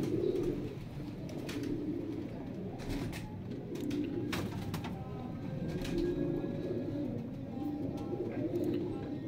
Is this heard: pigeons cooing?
yes